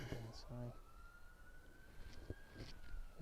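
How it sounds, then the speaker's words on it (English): A siren wails steadily in the background, rising then holding a long tone, while voices and scattered knocks sound closer by. "you will hear sirens all the time"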